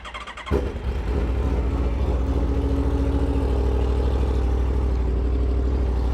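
An XTrenta car's engine cranks briefly and catches, then settles into a loud, steady, close-up running rumble with a slight rise in revs.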